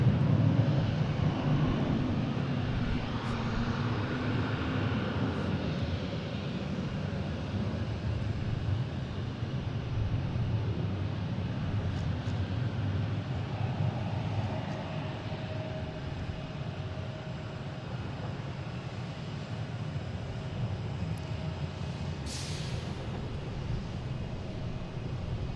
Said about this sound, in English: Next taking off is an American E175 heading to Harrisburg.